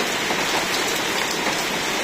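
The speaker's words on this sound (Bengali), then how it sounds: "বৃষ্টি আর বৃষ্টি" Steady rain pours down, a dense hiss of drops pattering on a surface with no other sounds.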